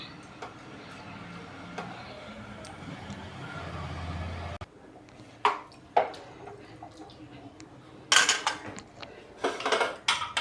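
A pressure cooker for veg biryani gets its lid closed and set, with metallic clanks and clicks coming in short bursts after a steady background hum.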